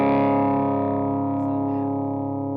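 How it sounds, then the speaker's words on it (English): A guitar amplifier played on its own with the preamp gain turned up gives a single sustained, saturated chord that rings loud and slowly decays with no other effects. "So, yes, we've turned the preamp gain up. So this is the amplifier by itself."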